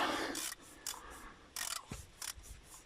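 A wrench works a rusty, tight bolt on the turbo oil return line of a 1.9 TDI Jetta, giving short, close-up rasping ratchet bursts with brief pauses between them.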